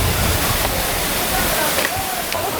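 River water rushes steadily in Kingston, Jamaica, a loud, broadband wash of flowing current that fills the whole moment, close and continuous.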